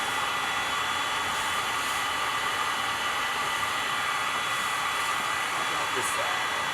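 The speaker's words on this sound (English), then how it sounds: "The heat gun does get pretty close to it, I guess." A heat gun blows hot air over coffee beans in a small sliding bean roaster, giving a constant loud airy roar that runs unchanged from start to finish.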